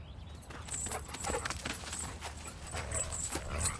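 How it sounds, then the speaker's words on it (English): A horned, dog-like creature from the Bestirio game trailer pants in short, quick, rhythmic breaths close up, mixed with light tapping and other game sounds. "puppy with horns? Alright, it's not a regular dog."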